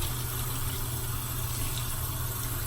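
Hot tap water running steadily onto a face cloth at a sink, a constant close hiss and splash with no pauses or voices.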